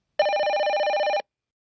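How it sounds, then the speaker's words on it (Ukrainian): A telephone bell rings once in a children's speech lesson: a single continuous, trilling electric ring lasting about a second, loud and close. It stops abruptly into silence. "Ой, чуєте, дзвонить телефон."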